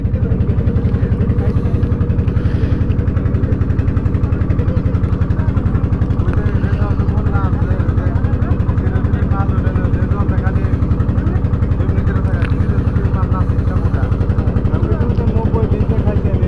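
A motorboat engine chugs in a steady, loud, close drone while crossing the Someshwari river, with voices talking over it.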